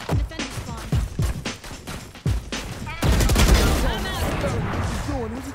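Golden guns fire in Valorant as rapid, sharp shots for the first few seconds, followed by a louder, denser stretch of gunfire and game noise with a voice speaking over it.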